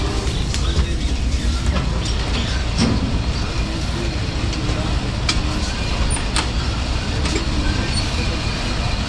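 A Kohat Express train pulls out of Kahal station with a loud, steady rumble of wheels and rolling stock. The noise is constant and close, with occasional sharp knocks and squeals in the mix.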